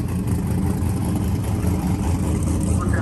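Drag race cars at a grudge race, a 632 cubic-inch nitrous car against a twin-turbo big-block Camaro, their engines droning loud and close in a continuous rumble that does not let up.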